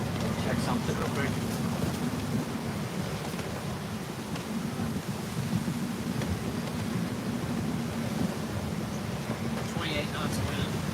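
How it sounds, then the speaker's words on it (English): Strong 28-knot wind roars over a sailboat at sea off Greece, a steady loud buffeting rush with low rumbling gusts across the microphone, continuous throughout. "28 knots of wind currently"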